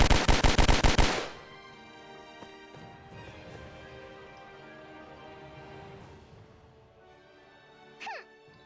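A burst of rapid gunfire from a found gun in a video game rings out loud for about a second at the start, then fades into a lingering game ambience with a brief chime near the end.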